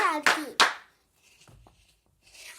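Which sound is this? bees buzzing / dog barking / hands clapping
hands clapping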